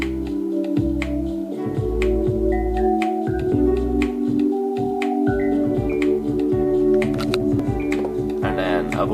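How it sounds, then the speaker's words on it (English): A homemade beat built from household objects, with a blown-bottle pad sustaining under strummed ukulele chords, topped by a few bottle notes and punctuated by crisp snap-like percussive hits in a steady loop. "I've used the blown bottle thing like a pad to support the chords that the ukulele's playing"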